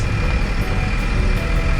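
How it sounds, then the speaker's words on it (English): A bus rumbles along the road with a steady low engine drone and road noise, continuous and close with no talk. "Driving a bus."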